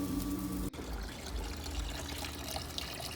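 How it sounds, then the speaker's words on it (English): A small garden water fountain runs outdoors beside a grill, a steady trickling splash that carries on evenly throughout, moderately close, with no talk over it. "Oh, we got the little water fountain going."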